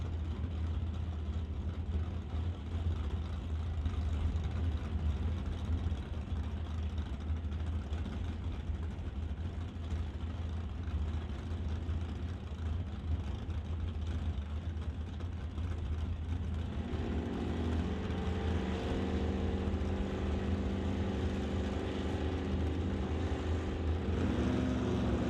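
Drag race cars at a National Tire Non Electronic Series event, with Ross Walker's Chevy II launching, a distant low engine drone that swells into a rising roar toward the end.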